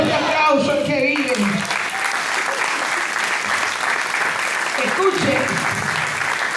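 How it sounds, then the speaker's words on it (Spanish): A church congregation at an evening worship service applauds loudly and continuously. Voices ring out over the dense clapping at the start and again briefly later. "den un fuerte aplauso al que vive"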